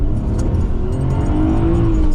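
A 1998 Nissan Skyline 25GT-Turbo ER34 engine revs loudly up close, the pitch climbing steadily as it accelerates with a deep, throaty roar.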